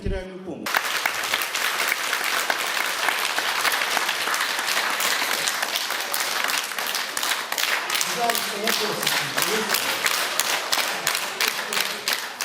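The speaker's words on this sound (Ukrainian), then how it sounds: "Виступ міського голови викликав у присутніх шквал аплодисментів." A burst of sustained applause from an audience after a city mayor's speech at a local meeting, dense and steady clapping filling the whole stretch at close range, with faint voices mixed underneath.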